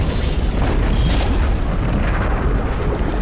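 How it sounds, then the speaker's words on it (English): Deep, continuous rumbling of a collapsing temple structure in a Tomb Raider film, a loud low boom that holds steady for a few seconds without any talk. "she has to escape from the collapsing structure"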